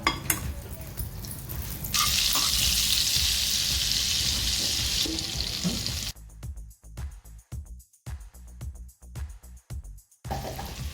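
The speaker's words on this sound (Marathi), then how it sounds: "इथे मी पॅन ठेवलंय त्याच्यात आपण अर्धा चमच तेल टाकूया एक बटर क्यूब टाकूया" Half a spoon of oil and a cube of butter sizzle in a frying pan on a stove, a steady loud hiss that later breaks into choppy bursts with clinks of utensils.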